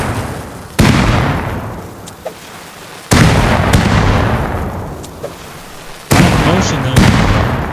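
Beancan grenades explode in a video game base raid: three loud, close booms land a few seconds apart, and each rumbles and fades slowly before the next.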